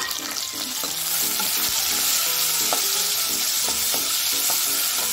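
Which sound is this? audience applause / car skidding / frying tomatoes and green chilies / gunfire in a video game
frying tomatoes and green chilies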